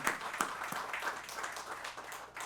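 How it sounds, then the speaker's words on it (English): Faint applause from a crowd, a steady patter of many hands clapping at a distance. "Please join me in giving them a big round of applause"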